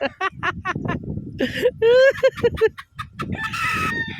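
An elderly man's whistled, clucking call mimics a hen in short choppy bursts, with people talking and chattering around it.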